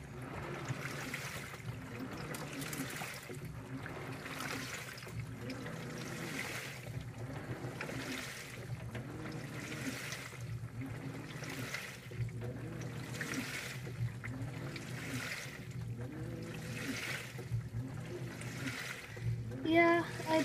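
Water churns and sloshes in rhythmic surges, roughly every second or two, over a low motor hum in an LG top-load washing machine agitating on a normal cycle, fairly quiet and steady throughout.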